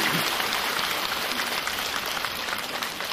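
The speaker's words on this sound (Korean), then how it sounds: "박수 한번 쳐주세요." An audience at a Buddhist temple dharma assembly applauds, a broad continuous patter of many hands clapping at once, steady and fairly loud throughout.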